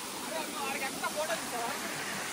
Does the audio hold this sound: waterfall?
yes